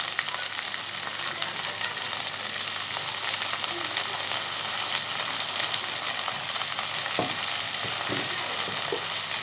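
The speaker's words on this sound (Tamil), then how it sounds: "சேர்த்துட்டு இது நல்லா பொன்னிறம் ஓரளவுக்கு கலர் வர்ற வரைக்கும் நம்ம வதக்கி எடுக்கலாம்" Sliced onions sauté in a pan with garlic, coriander and mint for mushroom mandi rice, making a soft, steady frying sizzle up close, with a few faint stirring knocks toward the end and no speech.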